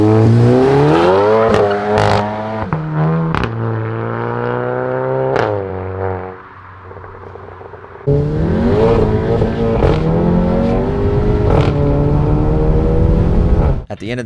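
Volkswagen GTI with a Unitronic stage 2 exhaust revs repeatedly, close and loud, with sharp blips rising and falling, a brief dip to near-idle around the middle, then another run of hard revs.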